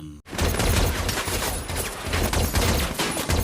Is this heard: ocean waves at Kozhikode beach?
no